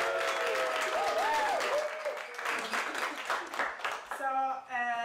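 An audience bursts into applause and cheering for a guest at an evening talk on AI and experience design, a dense roar of clapping that runs throughout, with voices and a brief musical tone mixed in.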